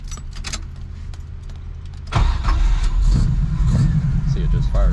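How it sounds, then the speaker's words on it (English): A 1969 Chevrolet Camaro engine cranks and fires at about two seconds, then settles into a loud, rumbling idle close by, after a quieter stretch of keys and movement in the car. "See, it just fires right up."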